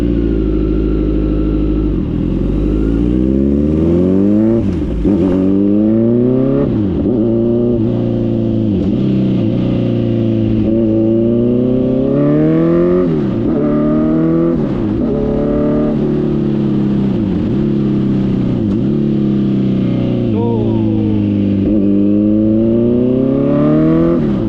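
Kawasaki Z900 motorcycle with an Arrow full exhaust system and no dB killer, revving loudly and repeatedly up and down close by, sharp rising and falling engine pitch throughout with no talking.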